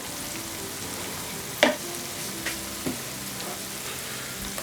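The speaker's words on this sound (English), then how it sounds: "cooking the onions and garlic very well. I'm going to add some white pepper" Onions and garlic with white pepper frying in a pan for seafood lasagna, a constant close sizzle with a few clear stirring knocks and scrapes against the pan, no voices.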